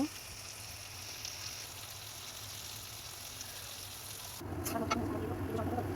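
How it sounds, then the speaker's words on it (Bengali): Turmeric, chili and cumin powders frying in oil in a pan for a chickpea chicken curry, a steady soft sizzle that swells and turns a little louder and crackly near the end. "হলুদের গুঁড়ো, মরিচের গুঁড়ো, জিরা গুঁড়ো দিয়ে কিছুক্ষণ কষিয়ে নিব"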